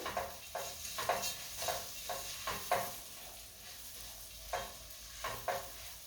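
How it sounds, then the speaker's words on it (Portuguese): Unwashed, uncooked rice is stirred and lightly toasted in a pan for risotto, giving repeated scraping stir strokes over a soft, steady sizzle, close up and with no talking. "Coloca o arroz e mistura. Vai dar uma leve torradinha."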